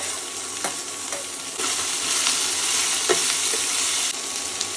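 Chopped tomato sizzles steadily in a hot pan while being stirred, with a continuous frying hiss and occasional scraping knocks of the spoon, close up and alone.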